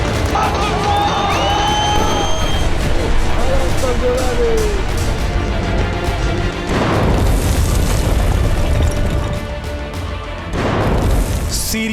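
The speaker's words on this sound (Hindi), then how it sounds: "सीरिया में दुश्मन के ठिकानों पर इजरायली वायुसेना की बमबारी।" Israeli Air Force bombing of targets in Syria, heard as loud booming explosions over a dense, noisy background with crowd babble and voices, two strong blasts standing out about four seconds apart.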